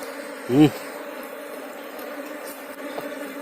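Apis cerana bees buzzing steadily around a trap made from coconut trunk bark, a continuous close drone with one brief louder buzz as a bee passes near.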